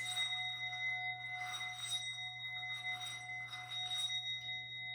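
A meditation chime rings at the start of a yoga session, its clear sustained tones lingering and slowly decaying over a quiet steady hum, with soft repeated shimmering swells and no voices.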